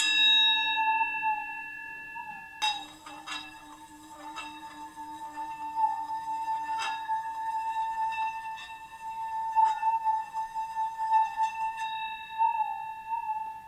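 An antique singing bowl with a little water poured in rings with sustained pure tones and layered overtones, struck again so the ringing swells and wavers, close and clear with no talking.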